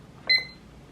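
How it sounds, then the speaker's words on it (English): A single short electronic beep sounds as a timer is set, bright and close, then quiet. "I'm going to set my timer so that I can know how long that will make the song"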